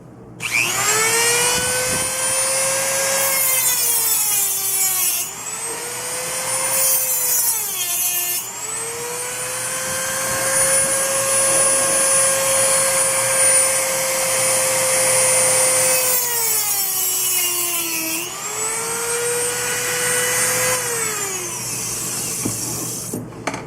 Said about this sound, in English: I'm going to take my Dremel tool with a cutting disc on it. I'm just going to cut once in that axis, once in the other one.